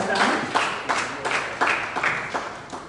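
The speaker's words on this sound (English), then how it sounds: "Kindly give her a round of applause as she walks up this way." A crowd applauds steadily, many hands clapping in a continuous wash with small bursts of louder claps, fairly close and without talk.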